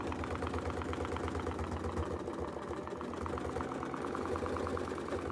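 Sewing machine stitching steadily along a quilt seam in the ditch, a continuous close mechanical whir with a rapid, even needle rhythm that runs unbroken throughout.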